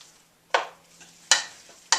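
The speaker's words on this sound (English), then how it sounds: "And so I'm just going to put up the heat a little bit. And just going to like stir it up." Crushed tomato sauce is stirred in a hot pan, with three bursts of stirring and scraping, each flaring up and then fading, against a faint, steady background hum and no talking.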